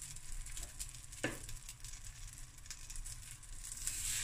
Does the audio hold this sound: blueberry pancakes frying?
yes